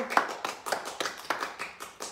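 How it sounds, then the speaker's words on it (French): Schoolchildren in a classroom clapping for a classmate, a quick ragged round of applause, a few hands loosely in rhythm, close and moderately loud. "Allez, on l'applaudit, bravo."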